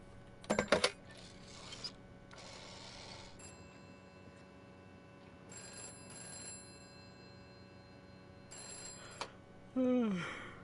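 A telephone rings in the video game This Is The Police, with short bursts of ringing spaced across quiet room tone and faint background sounds between them.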